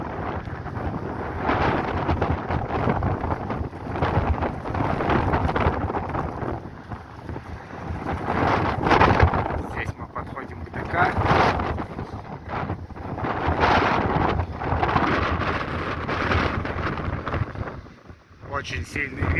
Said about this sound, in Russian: Очень сильный ветер, очень как-то неудобно даже.